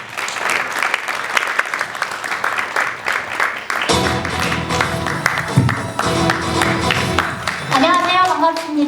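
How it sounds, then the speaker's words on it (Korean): Audience applause at a public-private-academic round-table forum on education in Uiseong: a dense, steady wash of clapping that carries on throughout, joined by music about halfway through. "여러분 큰 박수 부탁드립니다."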